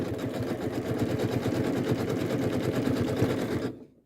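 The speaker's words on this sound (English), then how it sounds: "I'm going to take that stitch right down on that hillock as I'm sewing" Janome sewing machine stitching an embroidered hillock on a Greek scene postcard, a continuous close, loud whirring chatter of rapid stitches that stops abruptly just before the end.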